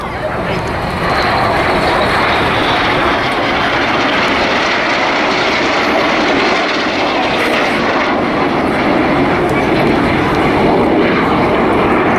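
Aerobatic display jets of a synchro pair fly past inverted at a seaside airshow, a loud continuous engine roar filling the whole stretch while a commentator talks over it.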